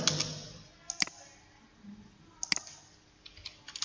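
Sharp, isolated clicks of a computer keyboard key being pressed in Excel, a few quiet taps spaced apart with faint speech around them.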